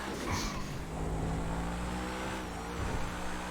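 A Grotti supercar engine in GTA 5 drones steadily as the car drives, a continuous loud engine roar with sustained harmonic tone. A brief rise comes near the end.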